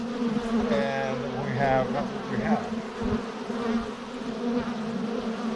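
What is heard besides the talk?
honey bees buzzing around apple blossom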